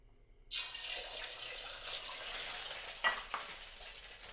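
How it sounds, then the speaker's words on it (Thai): Eggs frying in hot oil in a pan, a bright sizzle that bursts in suddenly and then holds steady with a few louder pops and spatters, close up and without talk. "เดี๋ยวเราจะมาทอดไข่ดาวกันก่อนนะคะ"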